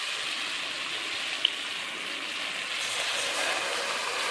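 Desi chicken curry fries in a pan with a steady, bright sizzle that holds at an even level from start to finish, nearby, with no talking.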